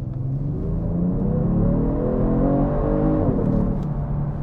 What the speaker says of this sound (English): Let's just give it a little bit of gas.